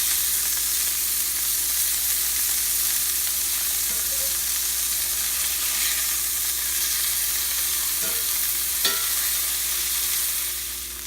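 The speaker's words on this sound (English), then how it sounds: "we're going to flip the burgers" Burgers sizzle steadily over high heat just after being flipped, a loud, continuous frying hiss that fills the whole stretch, with a few faint clinks and a brief sharp tap near the end.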